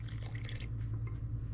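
Water is poured into a pot of potatoes, a steady liquid trickle and splash with dripping over a low background hum, close and fairly quiet.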